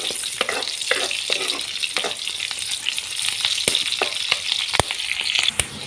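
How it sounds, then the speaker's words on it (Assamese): Onions fry in oil until browned, a loud continuous sizzle close by, punctuated by repeated stirring scrapes and spoon clicks on the pan. "পিয়াজখিনি ৰঙা হোৱালৈকে ভাজি থওঁ"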